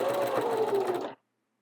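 A home sewing machine runs a steady backstitch along a T-shirt hem, a close, even mechanical whir lasting about a second before cutting off abruptly into silence.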